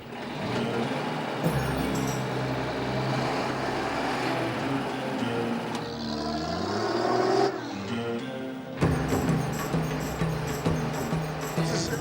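A truck carries travellers in its open back along a road in Iran, its engine rumbling loud and close with shifting revs and gear changes throughout.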